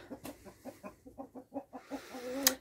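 Hens cluck in a homemade henhouse, a quick rhythmic series of soft, close clucks that ends in a sharper squawk, quiet overall.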